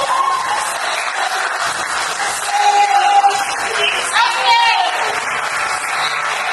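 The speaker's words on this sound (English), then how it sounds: "please keep clapping for them" Audience clapping at the TechOff 2025 final for a developer competition, steady crowd applause with occasional cheers and voices talking over it throughout.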